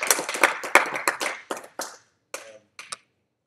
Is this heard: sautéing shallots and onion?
no